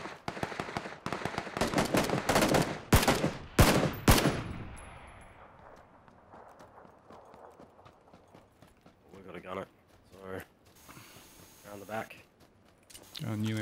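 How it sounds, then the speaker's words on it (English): Gunfire in the video game PUBG: a rapid burst of loud, sharp shots up front, then scattered fainter pops further off while voices talk over the action. "someone's taking shots at me"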